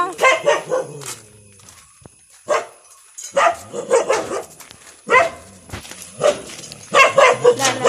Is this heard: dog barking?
yes